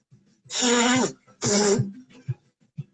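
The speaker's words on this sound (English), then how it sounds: "Gotta take a break so I can blow my nose." Two short, forceful nose blows close up, followed by a couple of faint soft clicks.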